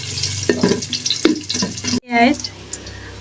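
Washed rice and lentils tip into a hot, sizzling pot for chicken bhuna khichuri, a sudden loud hiss and crackle after stirring, then settling to a steady fry.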